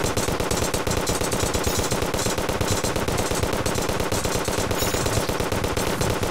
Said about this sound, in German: Ich schieße immer nur gerade.